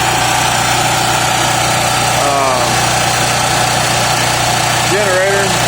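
A Harbor Freight Predator 4000-watt generator runs steadily throughout, a loud, constant engine drone with a dense hum, while faint voices and a few brief whistly tones sit over it.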